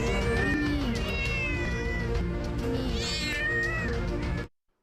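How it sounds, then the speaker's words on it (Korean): Several cats crammed into wooden crates stacked in a truck's covered cargo bed meow and wail continuously, loud and overlapping, with drawn-out caterwauling cries, before cutting off abruptly. "비좁은 상자 속엔 잔뜩 움츠린 고양이들이 가득합니다."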